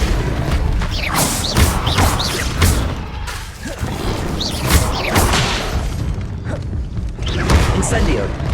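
Levioso spell effects from Hogwarts Legacy, with repeated whooshing bursts and heavy booming thuds amid game sounds, while a player talks over them.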